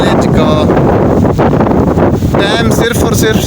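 A strong windstorm sweeps through an open village outdoors, roaring and buffeting the microphone in loud, continuous gusts with rustling throughout.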